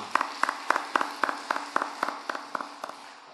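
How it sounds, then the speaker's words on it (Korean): A church congregation claps in a steady, unison rhythm to bless members celebrating birthdays, about a dozen evenly spaced claps at a moderate distance with no talk over them. "생일 맞이하신 분들 박수로 축복하겠습니다."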